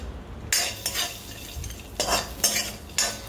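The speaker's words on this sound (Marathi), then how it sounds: "सेम कढईमध्ये हे ड्रायफ्रूट्स जे आहेत ते आपण ड्राय रोस्ट करून घ्यायचे" Dry fruits are dry-roasted in a kadhai for rice kheer, with a spatula stirring and scraping the pan in several bursts of clattering metal against a low background.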